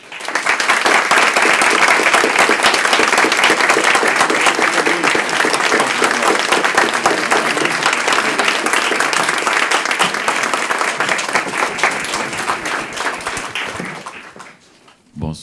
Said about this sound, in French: je vous demanderai d'applaudir avec grand plaisir M. Dany Laferrière et M. Saint-Éloi.